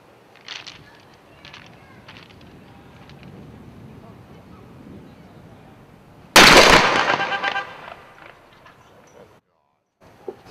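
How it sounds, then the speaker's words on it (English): An M80 firework blows up inside a watermelon with a sudden loud blast, followed by a couple of seconds of spattering debris and then near silence. A few faint sounds come before it. "we're going to have a watermelon with an M80 in it"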